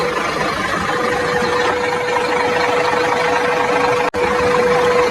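A toy truck runs with a steady mechanical motor whine and a constant pitched hum, loud and unbroken apart from a brief dropout near the end.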